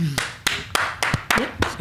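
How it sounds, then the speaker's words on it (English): A handful of sharp hand claps ring out at an irregular, unhurried pace, six or so distinct close smacks with brief gaps between them, loud and dry against a quiet background. "That deserves a round of applause."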